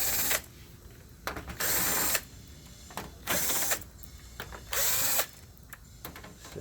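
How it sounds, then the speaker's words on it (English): Power screwdriver removing screws from the back cover of a Ricoh copier, short whirring bursts repeated about six times with quiet pauses between, close and clear. "Next thing we're going to do is we're going to remove about 7 screws."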